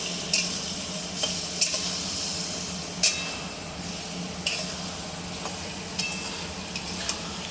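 Spices with fried taro stems, potato and eggplant being sautéed and stirred in oil for a hilsa fish curry, a steady close sizzle punctuated by sharp scraping strokes of a spatula every second or so.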